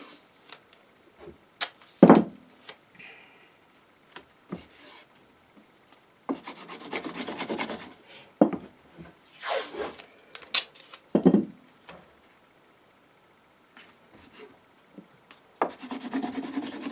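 Glued binding on a PRS-style guitar body being burnished down by hand, heard as close, repeated rubbing and rasping strokes in irregular bursts with short quiet gaps between.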